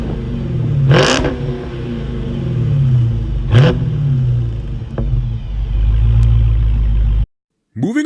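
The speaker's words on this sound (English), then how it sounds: "if you're still having trouble guessing if the car you're looking at is a Hellcat, then the exhaust is sure to give it away." A Dodge Charger Hellcat's exhaust roars through sharp revs, loud and close. Two big throttle blips rise over a deep idle rumble, then a shorter third rev follows, before a brief cut of silence and a restart.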